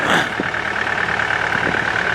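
The Yanmar diesel of a 2014 Takeuchi TB285 excavator runs close by, a steady low rumble with a sustained whine over it and a few faint knocks.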